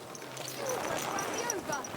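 Rhythmic clip-clop of horse hooves in the video game Kingdom Come: Deliverance II trots steadily beneath a person speaking, with a faint whinny-like tone mixed in.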